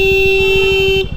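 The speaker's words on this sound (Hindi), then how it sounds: "फिर आंटी ने हॉर्न बजाया" A car horn blares in one loud, steady, sustained tone for about a second at a market crossroads during a motorbike ride, then cuts off abruptly, leaving engine rumble beneath.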